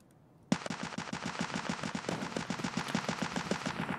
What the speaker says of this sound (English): Oh, that's a grenade launcher.